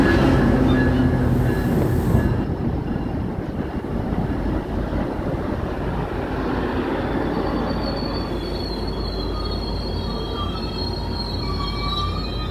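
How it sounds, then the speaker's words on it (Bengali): A local train pulls into Prospect Heights station with a loud, heavy rumble of wheels on rails, squealing brakes and clattering cars that run on steadily for the full stretch. "এই ট্রেনটি ঢুকছে।"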